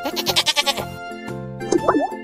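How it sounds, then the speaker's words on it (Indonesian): A goat bleats close by, a short wavering call followed by a second, shorter cry with a faint plopping sound, all in a quiet setting. "Hewan yang berawalan huruf K adalah kambing."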